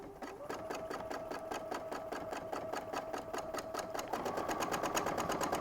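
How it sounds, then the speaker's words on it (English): A sewing machine runs steadily, stitching purple thread through blue and white fabric, its needle chattering in a fast, even rhythm that picks up slightly in speed and loudness toward the end. "So now I'm just taking a couple stitches to lock my thread in, and I'm going to literally just follow this line."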